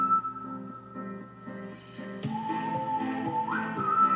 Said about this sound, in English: I like the whistle, that's really cool.